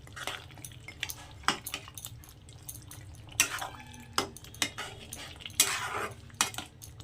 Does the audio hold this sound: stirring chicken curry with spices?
yes